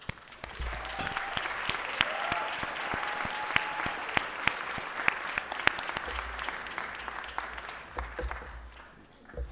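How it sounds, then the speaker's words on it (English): Applause at a city council meeting marking the kickoff of Black History Month: a room of people clapping steadily for about nine seconds, with sharp individual claps standing out and a faint voice briefly audible underneath. "Let's just end this with a big round of applause."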